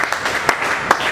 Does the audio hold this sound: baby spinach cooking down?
no